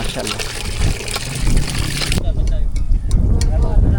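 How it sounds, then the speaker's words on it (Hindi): Water gushes from a newly installed hand pump in Hyderabad, Pakistan, a steady, close splashing wash that grows rougher partway through, with voices nearby. "कासिम अली और मरहूमा नुसरत खातून साहबा के लिए ये वाटर हैंडपम्प यहाँ पर इंस्टॉल किया जा चुका है।"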